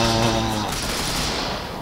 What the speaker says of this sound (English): Bullets! Scary sounds.